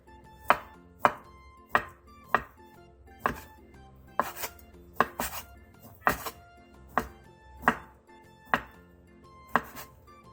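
A knife chops Spam and Vienna sausages on a cutting board, about a dozen sharp, evenly spaced thunks close up with no talking.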